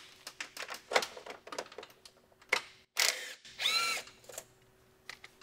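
A small 3/8 air gun with a 7/16 deep socket loosens an intercooler pipe clamp on a Ford 6.0 diesel, giving short sharp pneumatic bursts and clicks between quieter handling noises.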